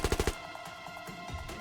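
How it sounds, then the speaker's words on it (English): A quick burst of four sharp gunshots at point-blank range in a visual novel game, loud and evenly spaced at the start, followed by a low muffled rumble. "fires a bullet at point-blank range"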